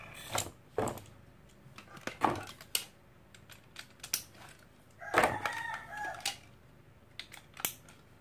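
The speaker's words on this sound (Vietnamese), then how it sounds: "4:25 sáng, mình gà nó gáy hoài à." A rooster crowing repeatedly in the early morning around 4:25 a.m., with several separate calls in close succession alongside sharp clicking and tapping sounds, no voices.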